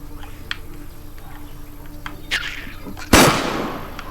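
Gunfire in the zombie video game The Last Stand Aftermath: one loud close shot cracks out near the end, preceded by faint scattered clicks and game effects over a low background hum.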